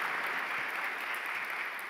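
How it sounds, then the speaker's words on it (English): Soft, fairly distant applause from an audience at an opening plenary session, an even patter of clapping that fades slightly toward the end, with no talk. "then a bit of clapping, maybe, hopefully"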